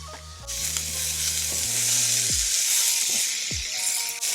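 Chopped onions and garlic hit a hot breakfast skillet and sizzle loudly and continuously, with stirring scrapes and a few low clunks and knocks from the pan beneath the steady frying hiss.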